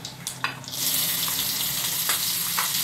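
Chopped onion frying lightly in a little oil with cumin seeds for a batata vada filling, a steady close sizzle with brief stirring scrapes near the start.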